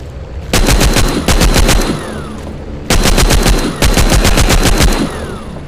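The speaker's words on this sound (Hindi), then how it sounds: "ये मिनी गन को लेते हैं हाथ में।" A minigun fires in the zombie video game The Walking Zombie 2. Two loud, rapid bursts of heavy automatic fire ring out, each about two seconds long with a short gap between them, and no voices are heard.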